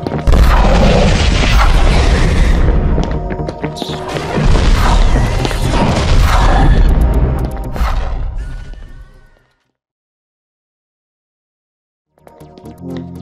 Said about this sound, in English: compressed the sound heavily to get a big bassy layer to complement the rocket shooting action